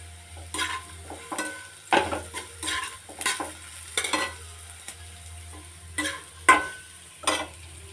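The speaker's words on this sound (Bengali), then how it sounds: "কালো জিরে কাঁচা লঙ্কা একটু পেঁয়াজ কুচি দিয়ে ভাজলে আলু আর পটলের খেতে ভালো লাগে" Potato and pointed gourd frying with nigella seeds, green chilli and chopped onion, heard as a soft sizzle broken by repeated spatula scrapes and clinks against the pan in an uneven rhythm.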